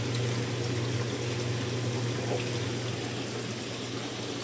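Water pours continuously at moderate volume, a steady running flow with a low mechanical hum beneath it.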